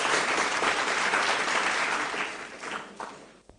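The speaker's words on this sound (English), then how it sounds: "Please, a round of applause for them." Audience at a school quiz contest applauding the contestants, a loud, dense burst of clapping that holds steady and then thins out, leaving a few scattered claps at the end.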